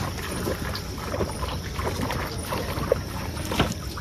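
A small fishing boat glides through water toward a landing during a cold night of prawn fishing. Soft lapping and sloshing splashes sound close by, with light wind noise.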